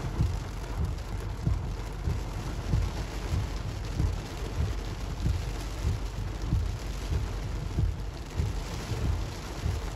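Thunderstorm heard from inside a moving car, with steady heavy rain drumming and low rumbling thunder pulses throughout, loud and continuous with no talking.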